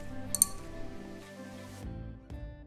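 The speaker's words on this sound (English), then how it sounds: "Now let's see what happens when I hit this glass." A drinking glass is struck for a musical-glasses demonstration, giving a bright clink that rings on as a sustained tone, followed by two lighter taps near the end; no voices.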